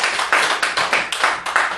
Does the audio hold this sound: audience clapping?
yes